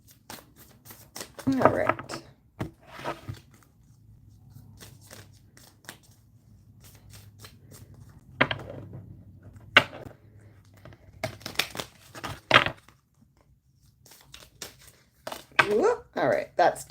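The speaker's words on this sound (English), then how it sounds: "we're just going to give them another little shuffle" Tarot cards are shuffled in several short, crisp bursts of riffling and snapping, separated by quiet pauses, with a brief spoken remark between them.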